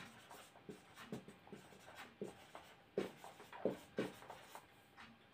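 Pen writing out a math solution on paper, close-up, with scratchy irregular strokes and taps for several seconds, no talking.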